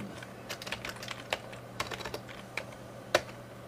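A BASIC program being typed on a Commodore-era computer keyboard: irregular clicking keystrokes, close and crisp, some in quick runs and others spaced apart, with one sharp louder key strike near the end.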